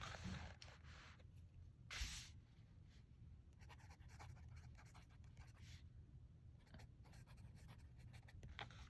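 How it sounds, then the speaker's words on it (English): Fountain pen nib scratching across cream Rhodia Webbie notebook paper, a faint, close, continuous scritching with small strokes and pauses, no talking. "it's horrible to write on"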